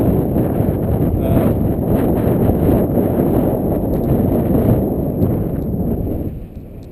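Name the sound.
wind blowing into a head-mounted camera microphone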